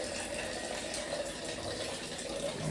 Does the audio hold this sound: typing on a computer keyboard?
no